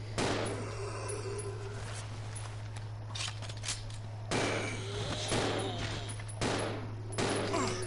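Gunshots in Resident Evil 0 HD: a handful of sharp, loud reports spaced a second or more apart, cutting through a steady background hum, with no one talking.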